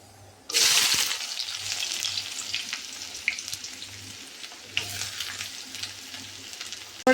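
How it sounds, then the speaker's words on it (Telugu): Shrimp cook in a pan with salt, turmeric and ginger paste, giving a sudden loud burst of sizzling that settles into a steady close bubbling and crackle, with a few louder spits and a faint low hum beneath. "చూడండి ఫ్రెండ్స్, మంచిగా ఉడుకుతున్నాయి రొయ్యలు."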